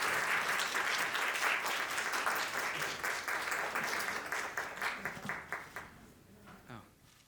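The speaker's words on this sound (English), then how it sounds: "how about a round of applause for our amazing panel number 2" Audience applause for a symposium panel at an anniversary event in Chattanooga, a dense wash of many hands that holds steady, then thins into scattered claps and fades out near the end.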